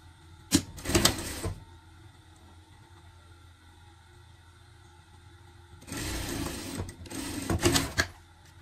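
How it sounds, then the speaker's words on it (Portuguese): A sewing machine stitching a small pet outfit runs in two rapid whirring bursts, a short one followed after a quiet pause by a longer one, close and moderately loud. "Costura, costura aqui."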